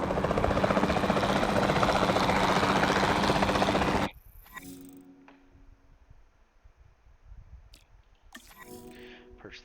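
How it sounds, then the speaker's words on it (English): Capture team helicopter in Jurassic World Evolution 2, a loud, close, steady rotor drone that cuts off abruptly after about four seconds, followed by quiet ambience with faint clicks and brief noise bursts. "Then the sensible thing is to take a capture team helicopter."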